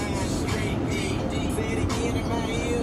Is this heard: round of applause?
no